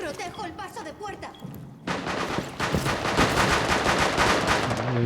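Rapid bursts of Rainbow Six video game gunfire, loud and continuous, with automatic weapon fire rattling over a voice heard at the start.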